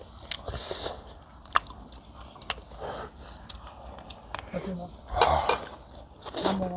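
Close chewing of a mouthful of meat and rice at a home meal, with soft crunches, squishy bites and sharp intermittent clicks over a quiet background, plus faint vocal murmurs.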